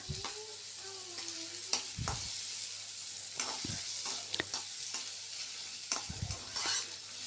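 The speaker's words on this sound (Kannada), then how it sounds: "ಈರುಳ್ಳಿ ಹಾಕಿ ಚೆನ್ನಾಗಿ ಸ್ವಲ್ಪ ಹೊತ್ತು ಎರಡು ಮೂರು ಸೆಕೆಂಡು ಫ್ರೈ ಮಾಡಬೇಕು" Chopped onion frying in a little oil in a pan for egg bhurji, a steady sizzle broken by repeated scraping stirs from a spatula, with no voices.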